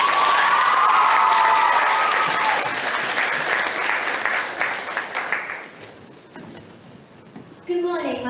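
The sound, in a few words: audience applause for a team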